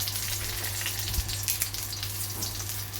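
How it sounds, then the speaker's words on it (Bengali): A steady, bright sizzle of dried chilies frying in hot oil, close up and continuous, with a low electrical hum underneath. "তেলে দিয়ে দিলাম আমি কয়েকটা শুকনো লঙ্কা"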